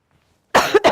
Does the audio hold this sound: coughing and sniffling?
yes